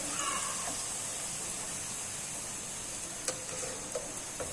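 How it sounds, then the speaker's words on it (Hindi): Bhatura frying in hot ghee, a steady soft sizzle with occasional small pops and ticks, fairly faint and continuous, no voices. "ये हम इसके अंदर भटूरा डाल देंगे, ऊपर से हम थोड़ा सा प्रेस कर देंगे।"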